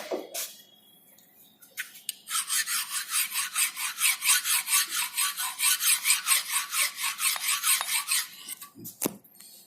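Rough filing of a metal square fitting: a hand file scrapes in a steady series of back-and-forth strokes, roughly a dozen rasping passes, close and fairly loud with no talk over them.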